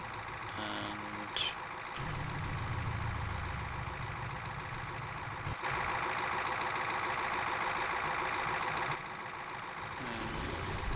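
A simulated DC-3 piston engine runs steadily after start in the Prepar3D flight simulator, a continuous droning rumble with vibration that swells louder for a few seconds mid-clip, with no talking.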